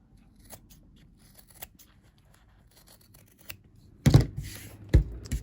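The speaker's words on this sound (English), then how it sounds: "And I'll trim this a little bit more because I want a really narrow seam here" Scissors snip through the fabric seam allowance of a face mask being trimmed narrow, a couple of close, crisp cuts near the end after a stretch of quiet rustling.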